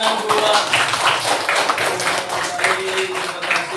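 A classroom of students clapping together, a dense steady patter of many hands that carries on for a few seconds and stays loud and close throughout.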